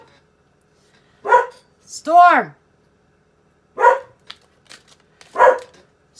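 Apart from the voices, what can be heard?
dog barking at the wind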